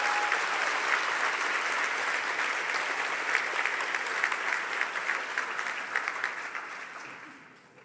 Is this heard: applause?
yes